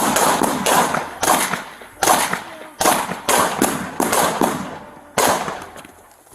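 Rapid bursts of gunfire in a police shootout with multiple shooters, sharp loud cracks arriving in irregular clusters, some shots stacked close together, with no talk over them.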